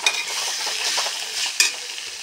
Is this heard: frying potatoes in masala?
yes